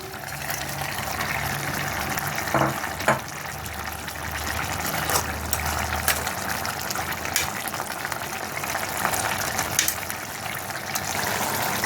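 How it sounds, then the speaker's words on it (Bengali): Tilapia pieces go into a simmering curry of drumsticks (moringa) and potatoes, giving a steady bubbling, boiling wash with a few soft clatters and splashes near the start, moderately loud and close, with no voices. "এখন আমি এই মাছগুলো দিয়ে দেবো।"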